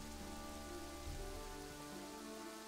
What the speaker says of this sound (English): And it is raining right now, so that's not good for us.